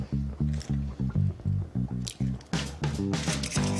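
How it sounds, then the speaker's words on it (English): Two eggs whisked lightly in a bowl, a quick rhythmic series of wet sloshing beats, close and fairly loud, with a few splashier strokes toward the end. "Lightly whisk that together."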